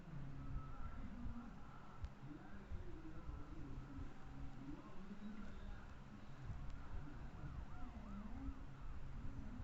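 Police siren passing in a KSRTC bus driving simulator game, a rising and falling wail repeating across the clip over steady road and engine noise, fairly loud and continuous.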